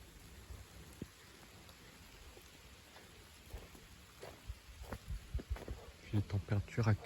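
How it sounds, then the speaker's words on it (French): Light rain shower falling during an evening downpour, a soft steady patter with scattered drops, growing somewhat louder and denser near the end, with faint low rumbles underneath. "Une petite pluie assez douce sous l'averse."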